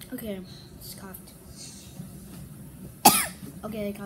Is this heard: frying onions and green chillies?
no